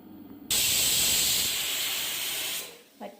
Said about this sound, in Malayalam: കുക്കറിൽ ഒറ്റ വിസിലടിച്ച് വേവിച്ചെടുക്കാം.